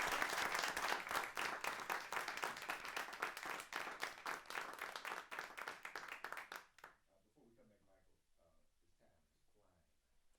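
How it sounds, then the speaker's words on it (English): A live audience at a radio interview event claps for a guest in a dense, steady burst of applause lasting about seven seconds, then it stops abruptly and only faint talking remains. "Let's give her a round of applause."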